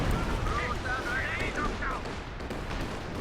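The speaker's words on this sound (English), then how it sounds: "look at that Stuka barrage, that was a good one" Stuka dive bomber barrage in the video game Company of Heroes 2, rumbling explosions and gunfire layered with a whistling dive sound, moderately loud battle noise throughout.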